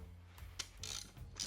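Bolts are snugged down on the synchronized transmission of a 1929 Ford Model A Roadster with faint ratchet clicks, a few light ticks spaced out in a quiet workshop.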